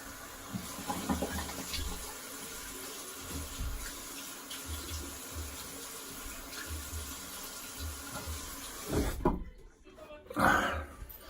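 A razor is rinsed under a running bathroom tap: steady water flow runs throughout, with brief splashing bursts near the end as the razor passes through the stream, fairly close and moderately loud.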